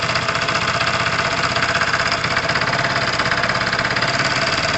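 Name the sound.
Tamoretti retro motorbike engine idling with a rattle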